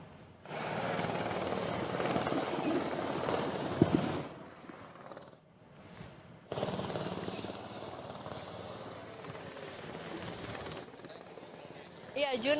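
A helicopter carrying the Indonesian and French presidents lands at the military academy in Magelang, a broad rotor roar that drops away then returns loud and steady.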